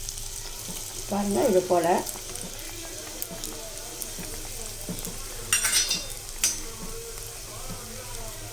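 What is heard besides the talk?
kandarappam batter frying in hot oil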